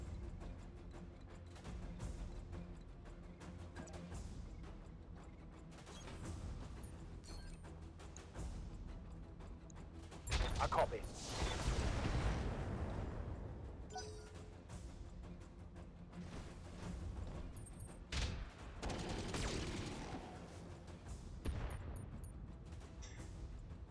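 Turrets firing in the Battletech mech combat video game, a steady stream of dense gunfire and booming impacts layered over game music, with a louder burst of blasts in the middle.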